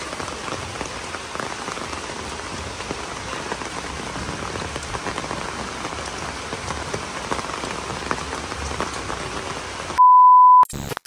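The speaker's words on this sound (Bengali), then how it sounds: "আমাদের টিনের চাল, বৃষ্টির ফোঁটা পড়লে আওয়াজটা জোরে হয়" Heavy rain drums on a tin roof of a house, a dense and loud steady patter that lasts several seconds before a sharp electronic beep cuts in near the end.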